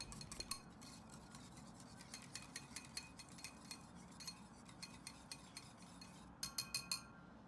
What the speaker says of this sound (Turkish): Önce sarısını iyice karışana kadar çırpma teliyle çırpıyorum.